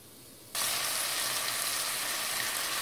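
Sliced strips of a large onion hit a hot pan and break into a loud, steady sizzle that starts abruptly and holds evenly throughout, with no voices.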